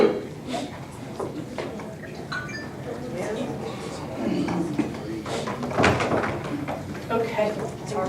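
Doors being grabbed and opened in an indoor space, with short knocks and clatters of the door hardware mixed in among steady nearby talking by several people.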